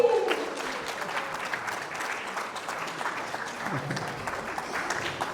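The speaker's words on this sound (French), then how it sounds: "Merci d'applaudir pour Louisa!" An audience applauds a performer at an anniversary cultural evening, a steady wash of many hands clapping at moderate volume that carries on throughout without pause.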